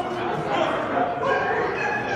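Dogs yip and bark amid a dense, busy crowd din at the Lone Star Dog Show in Cleburne. The sound is a continuous wash of indoor noise with people talking throughout.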